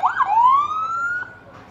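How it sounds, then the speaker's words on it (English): A search and rescue vehicle's siren at a Fourth of July parade sounds one loud rising wail that sweeps upward and holds steady before fading, close by and with no talk over it. "this year I think we set the new record for sirens in the parade"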